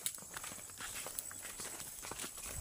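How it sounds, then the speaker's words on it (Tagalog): A horse's hooves clip-clop at a walking pace on a countryside path, an uneven string of soft knocks over steady outdoor background noise. "Ay kabayo diri o."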